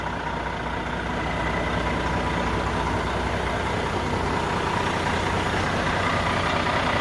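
A reefer refrigeration unit on a 2017–18 model Volvo truck runs steadily, its engine-driven compressor giving a constant, loud, broadband mechanical drone with no pauses.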